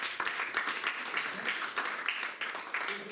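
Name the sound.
audience applause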